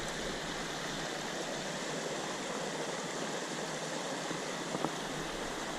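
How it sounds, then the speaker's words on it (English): A small set of waterfalls spilling down into a little gorge among rock formations makes a steady, broad, even rush of water, continuous and unchanging from a moderate distance, with one brief knock near the end. "There's a small second set of waterfalls over here that go down into a little gorge."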